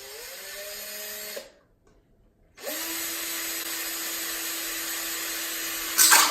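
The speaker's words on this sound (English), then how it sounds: "let's start a little drilling here" A power drill whines at a steady pitch, stops for about a second, then runs again at a lower, even pitch. It is close and loud.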